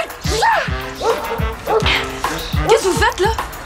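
A dog barks and yips repeatedly in a burst of sharp, close calls mixed with whimpering, while people talk over it in French during a confrontation about an infraction.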